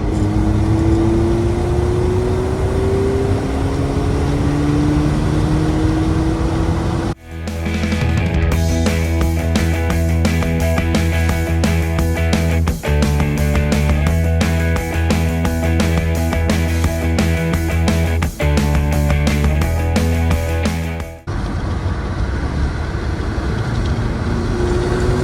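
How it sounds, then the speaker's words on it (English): An old-school BMW with factory headers and no catalytic converters rasps and climbs in revs, its exhaust note rising. A stretch of music then takes over the middle before the raw engine drone comes back near the end. "Listen to that exhaust now. Factory headers, no catalytic converters."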